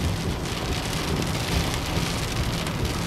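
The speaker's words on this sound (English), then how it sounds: "look at the rain up there" Heavy storm rain drums steadily and loudly on a car during a drive from SeaWorld toward Universal Boulevard, a dense unbroken hiss with no voices.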